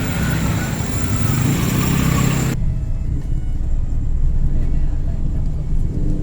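A car engine runs steadily in a parking lot, with a constant low rumble and a broad hiss that drops away abruptly partway through while the engine keeps droning.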